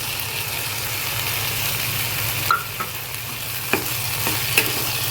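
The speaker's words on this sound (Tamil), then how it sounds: "இது எல்லாமே கொஞ்சம் நல்லா வதங்கிடுச்சு" Ginger garlic paste, tomato and a dry spice paste sauté in a pan for egg kurma, a loud continuous sizzle with occasional light clinks from a stirring spoon, close up and without speech.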